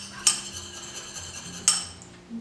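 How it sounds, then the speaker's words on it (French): A utensil stirring a Halloween recipe mixture in a bowl, with two bright metallic clinks against the dish spaced over a second apart amid soft scraping, close and fairly quiet with no talking. "Alors, on mélange."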